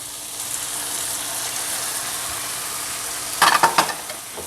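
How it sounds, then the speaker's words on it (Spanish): Diced cuttlefish sizzles steadily in a hot pan as it browns, a broad continuous frying hiss, with a brief burst of clattering stirring near the end. "Igual vamos a dorar un poquito, que absorba los sabores."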